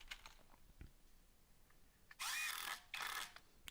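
A power drill drives screws into pallet wood for garden fence posts, with two short, loud whirring bursts near the end after quieter handling noises.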